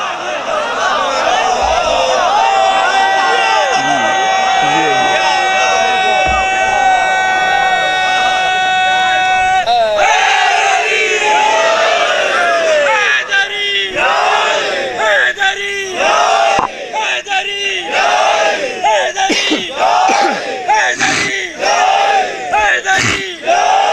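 At a religious celebration in Multan, one voice holds a long, sustained call, then a large crowd answers with loud, rhythmic shouted slogan chants in repeated bursts.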